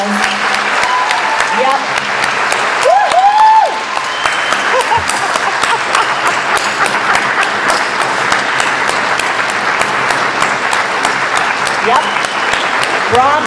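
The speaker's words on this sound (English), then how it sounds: "we give him one last big round of applause" A crowd gathered on Broad Street gives a long, loud round of applause at a memorial. The clapping is dense and steady throughout, with whistles and shouts rising over it and a voice briefly calling out.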